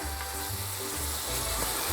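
Garlic and tomatoes sizzle steadily in a hot pan, a continuous close frying crackle with low stirring thumps underneath and no talking.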